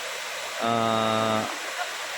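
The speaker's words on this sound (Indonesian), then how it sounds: "Ini dia air terjun Kolam Biru, biru airnya" The Rerebe Kolam Biru waterfall in Gayo Lues, Aceh, gives a constant loud broadband rush of falling water, with one short voiced utterance in the middle.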